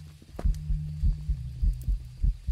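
Heartbeat effect during a ghost hunt in the game Phasmophobia, a steady series of low double thumps repeating about every half second over a soft hum, with no voices.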